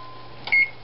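A kitchen timer used while making pancakes gives one short, clear electronic beep over a faint steady hum.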